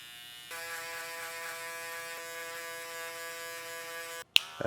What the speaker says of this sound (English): every time I'm going in with this clipper, I'm angling the clipper